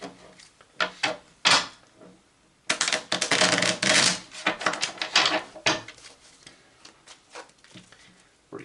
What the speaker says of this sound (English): let's do some shuffles here.